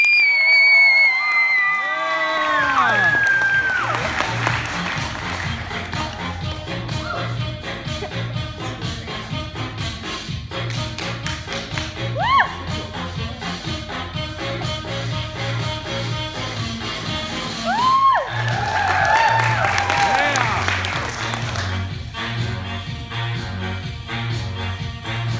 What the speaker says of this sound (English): Welcome them with your applause